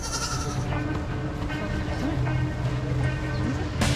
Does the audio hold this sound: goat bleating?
yes